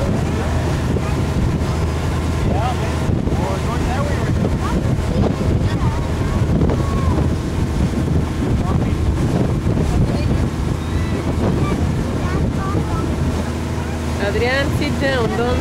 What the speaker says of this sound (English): I feel the wind.